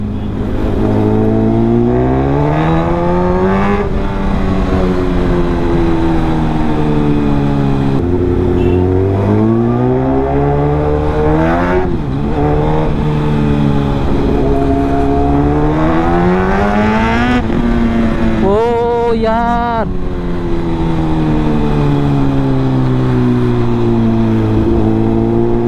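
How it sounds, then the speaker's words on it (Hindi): A 1000cc Suzuki Gixxer superbike engine revs hard while being ridden, its pitch climbing and falling through repeated throttle pulls and gear changes, loud and close throughout with no talking. "हाँ 1000cc बाइक है तो पावर तो होगा ही।"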